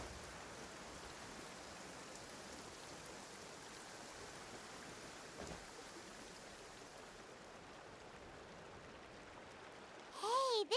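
Steady rain falls in Genshin Impact, an even hiss of drops continuing without a break, with a brief chime-like game sound at the very end.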